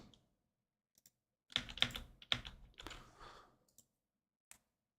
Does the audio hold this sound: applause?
no